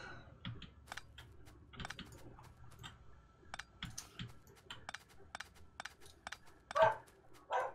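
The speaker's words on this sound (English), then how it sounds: "Bark. Bark. Yeah. The dog's not happy it's been locked outside again." A dog locked outside barks in several short, sharp yips scattered through the stretch, fairly faint under a rapid patter of computer keyboard typing.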